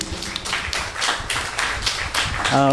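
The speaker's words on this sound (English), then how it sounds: "can we give them a round of applause, the Chinmaya Mission" An audience at a Bhagavad Gita talk in a temple claps for the Chinmaya Mission, a fairly close, uneven patter of hands with rhythmic surges, ending as a low tone comes in.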